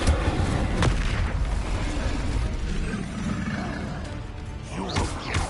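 The Incendio fire spell is cast in Hogwarts Legacy, producing a loud, continuous roaring blast of flame with sharper bursts near the start and end.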